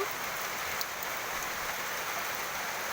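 Heavy rain pours steadily onto a hard surface, a dense, constant hiss with scattered drop impacts and no voices.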